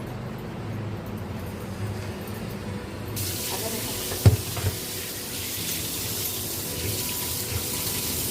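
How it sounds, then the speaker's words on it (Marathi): Fish rubbed with turmeric and salt is rinsed under a running kitchen tap, a steady hiss of water throughout that brightens partway as the flow strikes the sink, with a brief clatter in the middle. "पण मी आता हळद आणि मीठ लावून जरा चोळून धुवून काढते"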